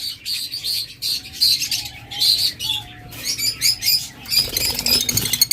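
A pair of budgerigars chirps and twitters continuously at close range, with rapid overlapping high calls and short warbling notes and no voices.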